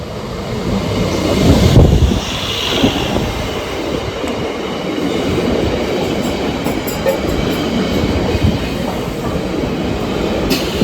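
Standing inside a crowded, moving commuter train headed toward Panvel: a loud, steady roar of wheels on rails with rhythmic clatter and brief squeals, continuous for about eleven seconds.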